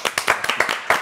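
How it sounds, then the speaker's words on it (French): A brief burst of audience clapping on a French television show, several distinct hand claps heard close and fairly loud in quick succession. "Alors on va quand même applaudir"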